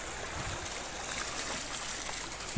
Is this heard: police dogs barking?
no